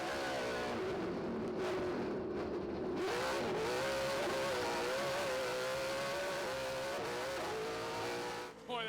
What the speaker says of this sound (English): Real high-pitched sound in there, the high-pitched engine that you hear, that would be one of the Toyotas